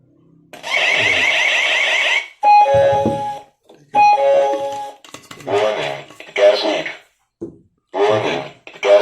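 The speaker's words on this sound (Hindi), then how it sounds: "यहाँ पर लिखा हुआ आ गया गैस लीक डिटेक्टेड। इसकी आवाज़ बंद कर दो।" A gas leak detector's loud electronic alarm tone sounds in repeated bursts, alternating with a person speaking between and over the beeps.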